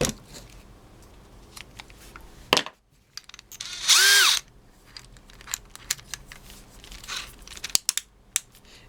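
A cordless drill driver whirs briefly in a short high burst as its clutch slips on a screw at clutch setting 1, with rattling and clicking handling noises around it, close by.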